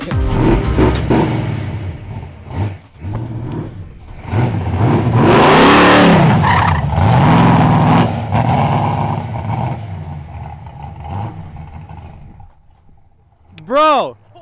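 A drag racing car revs hard and roars close by, engine surging and falling over several seconds with rough, skidding bursts, then a short sharp rev near the end; people talk around it.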